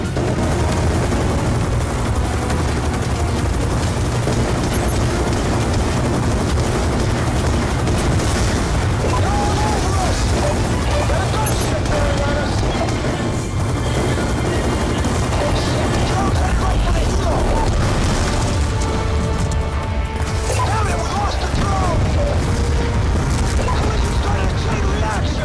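Dense gunfire and heavy explosions from the video game Call of Duty Black Ops II form a loud, continuous roar of booms and bursts, with a voice talking over the battle.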